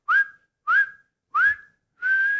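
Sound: person imitating a sequence of whistles

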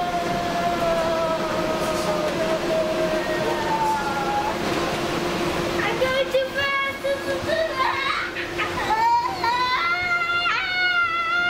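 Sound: train running

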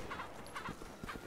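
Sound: chicken clucking in the video game Resident Evil 6

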